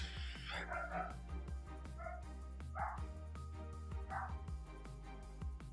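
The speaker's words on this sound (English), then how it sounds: "Waiting on dogs to start barking." Dogs bark in the distance on a July 4th weekend, several short barks and yips spaced out over a steady low hum, faint but distinct.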